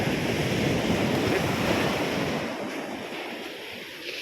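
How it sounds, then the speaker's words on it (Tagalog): Ocean waves roll onto the beach at a Zambales resort on a calm, windless day, a loud, close wash of surf that swells and then slowly recedes, with wind buffeting the microphone. "Kita nyo yung alon. Walang hangin pero maalon siya."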